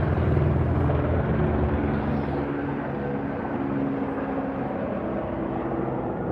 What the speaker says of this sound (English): I'm realizing it's some helicopters.